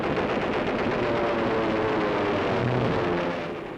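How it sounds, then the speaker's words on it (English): Rapid, continuous aircraft cannon fire from fighter planes roaring without pause, dense and loud, tapering off slightly at the end. "Fighter planes sweep in with cannon blazing"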